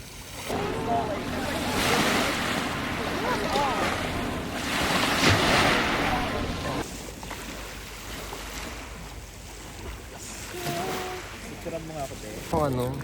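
Waves wash against a rocky shore at Dubrovnik, a steady surf roar with wind buffeting the microphone, while several people chat nearby over the water.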